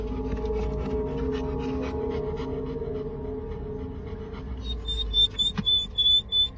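A dog panting in quick, breathy bursts that grow louder toward the end, over a steady background hum.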